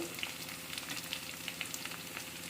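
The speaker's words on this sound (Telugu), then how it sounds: "ఇప్పుడు కరివేపాకు వేద్దాం. కరివేపాకు, అలాగే కొంచెం అల్లం పేస్టు," Curry leaves and ginger paste sizzle in oil with onions already fried brown, giving a continuous soft crackle with small pops and spits scattered through it, close but fairly quiet, with no talking.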